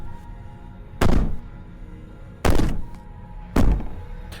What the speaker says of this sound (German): Vielleicht werden wir sie lang genug klopfen lassen